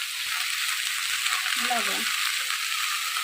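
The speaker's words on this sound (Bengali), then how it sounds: "দেখবেন লাউ ভাজতে ভাজতে" Sliced bottle gourd fries in a pan for a Bengali dish, a steady broadband sizzle hissing continuously close by while a voice briefly speaks over it.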